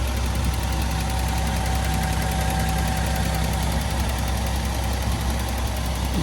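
The original inline-six in a 1983 Datsun 280ZX GL with 61k original miles runs at a steady, smooth idle. Up close, it makes a continuous engine hum with a faint even ticking and a constant whine, and no voices are heard.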